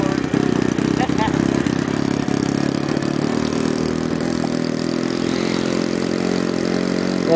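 The engine of a giant-scale Anderson Super Kingfisher model airplane starts and idles with a steady mid-pitched buzz that holds throughout, while people talk over it nearby.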